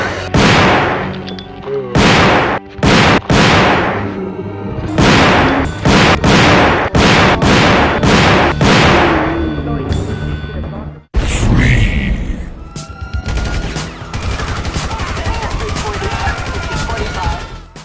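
Spas 12 shotgun fire in a GTA video game: loud, sharp blasts in quick bursts with short gaps for about ten seconds, followed by a dense, continuous stretch of gunfire and noise.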